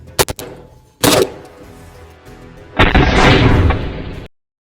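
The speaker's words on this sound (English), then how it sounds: "Next up, we have the AKM, the most common rifle in the world." AKM rifle shots fired at a kevlar helmet: two sharp close cracks, a third loud report about a second later, then a long roaring blast-like burst that cuts off abruptly.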